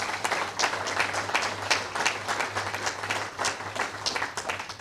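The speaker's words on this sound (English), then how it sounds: "If you could give them a round of applause." Audience at a youth programs club meeting applauds steadily for the full stretch, a dense, even patter of many hands with a faint low hum beneath and no talking.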